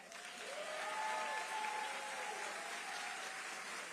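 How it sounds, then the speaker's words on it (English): An audience at a school community awards ceremony claps in a sustained round of applause that swells and then holds steady, filling the hall with dense, slightly distant clapping. "I think we need to give them another round of applause"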